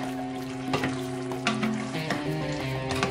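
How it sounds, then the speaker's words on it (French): Tofu simmering in a pan with green beans and tomato, a soft continuous sizzle and bubble with faint clicks, quiet and close, plus a steady low hum in the background; no voices. "Je mets du tofu et puis je laisse mijoter"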